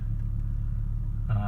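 A 1999 Volvo S70 engine idling with a steady low rumble and a noticeable vibration, heard up close and continuous, with a brief rise in tone near the end; the idle runs a bit rough after new spark plugs and ignition coils.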